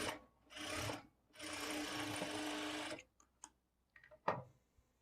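A sewing machine stitches a second line of double stitching along the border of a blouse sleeve. It runs in two steady close-up bursts, the second longer, followed by a few soft clicks and taps.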